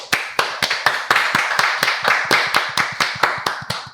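In a podcast studio, a small group claps slowly in unison to welcome the guest Paulo, about a dozen evenly spaced, sharp, close claps over a soft wash of scattered clapping.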